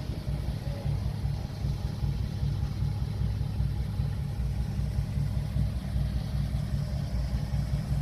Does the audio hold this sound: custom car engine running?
yes